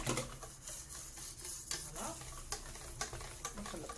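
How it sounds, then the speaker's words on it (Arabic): Crêpe batter is whisked hard in a bowl to break up lumps, a rapid, continuous scratchy beating heard close and fairly quiet, with no voices. "نخلط مليح باش ما يجونيش هادوك لي غرومو"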